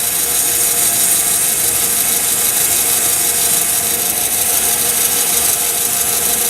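Steady, continuous scratchy hiss of 400-grit sandpaper rubbing back and forth on a pen, close and fairly loud, with no voices.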